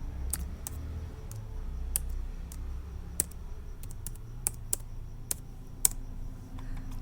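Computer keyboard keys tapped while entering a password in a spreadsheet program, a sparse run of light, irregular clicks over a low steady room hum, no talking.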